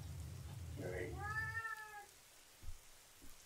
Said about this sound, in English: This cat meowing.